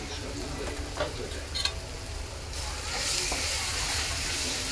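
Homemade semolina and flour pasta gets mixed with coriander powder, turmeric and garam masala in a pan, giving soft scraping stirs over a steady sizzle that grows louder and hissier partway through.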